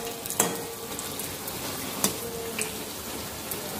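Ajwain-leaf pakoras in gram flour batter frying in hot oil, giving a steady soft sizzle with a few sharp pops and crackles scattered through it.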